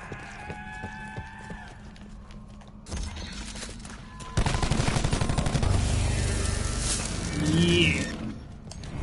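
Video game gunfire in a zombie mode, bursts of rapid shots that start partway through and keep rattling densely alongside other game sounds.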